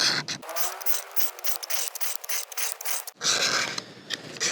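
A scraper rasps along a magnesium firestarter rod with a sharp 90-degree spine, giving a close, continuous gritty scraping that pauses briefly and then resumes louder.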